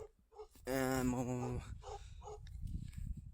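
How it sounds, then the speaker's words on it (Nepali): A Tibetan mastiff barks a few times close by at a cattle shed in the forest, then a loud drawn-out tonal call cuts in, followed by more short barks over low rumbling background noise. "भोटे कुकुर रहेछ भुकेर हैन"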